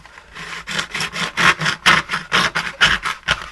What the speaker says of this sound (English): I'll do it the way most people will have a chance to, and that's just using a razor saw.